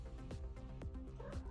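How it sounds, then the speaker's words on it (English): A pet cat lets out a few close, insistent meows in quick succession, loud and near against a low steady hum. "The feline supervisor checks in."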